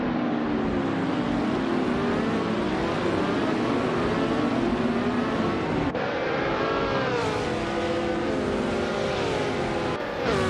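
A 1966 McLaren M10A racing car in a video game race sends out a loud, continuous engine howl. Its pitch sweeps up and down through gear changes, with a sharp shift near the end.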